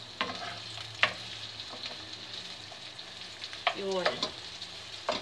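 Food sautéed in a frying pan with ginger added, a steady sizzle running throughout with occasional clanks and stirring scrapes of the utensil against the pan; a brief word is spoken.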